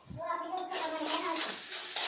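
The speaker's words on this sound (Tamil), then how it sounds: "தக்காளி சின்னதாக கட் பண்ணி வச்சுருக்கிறோம், அதையும் போட்டு நல்லா கிளறி விட்டுக்கலாம்." Onions and chopped tomatoes frying in a pan for fish curry, stirred with a continuous wet sizzle and scraping, fairly close and loud; a short low thump comes at the start.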